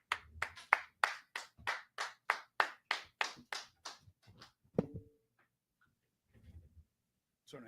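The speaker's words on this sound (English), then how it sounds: "Clap it up." Audience at a brotherhood class meeting clapping in unison, about fifteen sharp, evenly spaced claps in a steady beat, then a few scattered claps fading out near the end.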